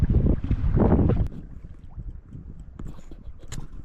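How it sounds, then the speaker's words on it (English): Gusty wind buffets the microphone on an outdoor camping and canoe trip near a meteor crater, a heavy rumbling blast that eases after about a second into a lighter, fluttering breeze. "Why wouldn't it be windy?"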